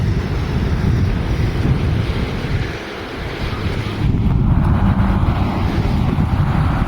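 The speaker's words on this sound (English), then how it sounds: "I don't know if you can hear me over the wind." Strong wind buffets a microphone beside a river, a continuous loud rumbling roar that dips briefly and then surges harder again.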